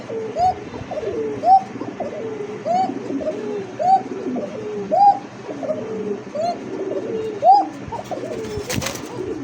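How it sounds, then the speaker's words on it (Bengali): Coca pigeons coo up close in a series of about eight soft, rolling calls at fairly regular intervals, with quieter cooing and chirps filling the gaps. "কবুতর ডাকটা ভাল লাগছে"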